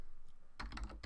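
Keys on a computer keyboard clatter in a quick burst of several close, crisp taps after a quiet start, fairly faint, with no talk.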